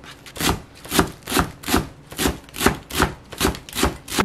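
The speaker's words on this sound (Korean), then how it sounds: "부추는 한 요 정도, 반쯤 정도 됩니다. 그래서 잘게 썰어 주겠습니다." Garlic chives are finely chopped on a wooden board with a knife, producing a steady, even rhythm of close, distinct chops at about two per second, with no voices.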